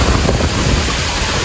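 Strong Super Typhoon Aghon winds in Quezon Province roar as loud, continuous buffeting against the microphone, a dense rushing noise with no voices.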